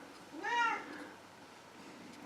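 A single drawn-out cat meow, fairly clear and close, rising and falling over about half a second against a quiet indoor background.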